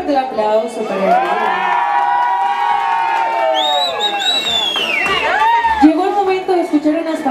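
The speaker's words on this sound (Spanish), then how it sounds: "Fuerte el aplauso para él." A birthday party crowd cheers, whoops and shouts with children's voices mixed in, a loud continuous burst of celebration with some talk and singing-like voices throughout.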